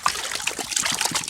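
Water swirls and sloshes in a gold prospecting pan as material is stratified, a close, busy trickling and splashing with rhythmic surges, loud and continuous.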